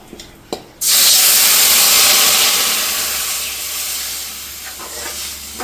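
A sudden loud hiss erupts as a small vessel of water is poured into a hot pan, then a strong steady steaming roar that slowly fades, heard up close.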